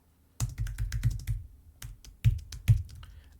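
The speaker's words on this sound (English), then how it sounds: "So I can type some more code in this box" Code being typed on a computer keyboard, a quick close run of key clicks followed by a few separate heavier keystrokes, with no talking.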